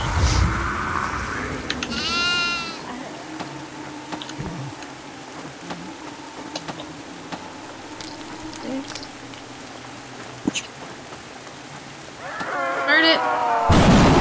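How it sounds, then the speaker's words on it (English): A goat in the horror video game Devour gives two bleats, one near the start and a louder, longer one at the end, over a steady bed of rain and low rumbling thunder. "There's a goat in the front yard. There's a goat in the basement."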